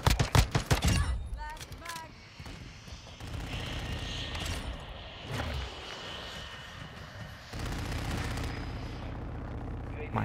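Pistol fire from the X12 in Modern Warfare 2, a quick burst of close sharp shots at the start followed by scattered distant gunfire and battle noise, with someone talking over it.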